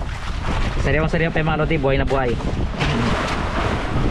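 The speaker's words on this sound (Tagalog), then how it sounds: "Medyo mahangin ngayon" Wind roars steadily across the microphone throughout as someone talks over it.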